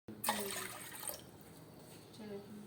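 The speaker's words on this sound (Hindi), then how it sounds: "शीरा बनाने के लिए आपने 2 प्याली पानी डालना है इस तरीके से" Two cups of water pour into a pot to make syrup for a shahi tukray dessert, a steady splashing stream that tapers off before a brief second pour.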